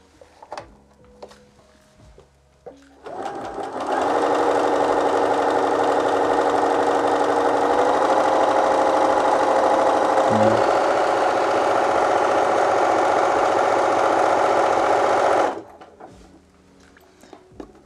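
A Bernina B 325 sewing machine runs in one steady, continuous stitching burst of about eleven seconds, a close, even mechanical hum with brief quiet handling clicks before and after.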